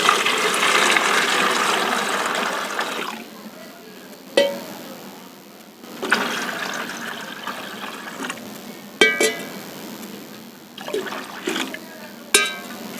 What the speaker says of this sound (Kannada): ಅರ್ಧ ಲೀಟ್ರ್ ಮಜ್ಜಿಗೆ ಹಾಕಿ ಇದರಲ್ಲಿ 1/4 ಲೀಟ್ರ್ ಗೋಮೂತ್ರ ಹಾಕಬೇಕು